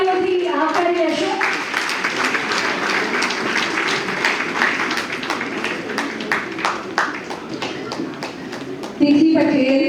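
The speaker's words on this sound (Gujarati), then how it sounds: "દરેકે દરેક કલાકારોને આપણે જોરદાર તાળીઓથી આવકારી લેશું" An audience at a Gujarati community stage celebration in New York claps steadily and warmly for several seconds, with a voice briefly heard at the end.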